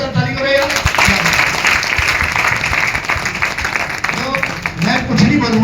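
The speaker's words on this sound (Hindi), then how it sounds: "एक बार फिर इनके लिए जोरदार ताली करो यार" Loud applause from an audience at a live Hindi-language event, a dense burst of clapping mixed with crowd noise and some voices, holding steady for several seconds.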